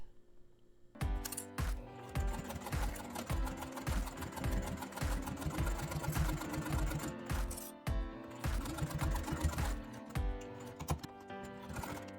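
A sewing machine runs in steady, rapid bursts as it stitches a quilting cotton and vinyl zipper pouch, the motor whirring and the needle clattering close and loud, with short pauses between runs and no talk.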